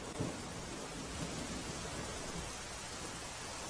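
Heavy monsoon rain pours down on Nakhatrana village in Kutch, Gujarat, a dense, steady roar of downpour with no pauses, close and constant for the whole stretch.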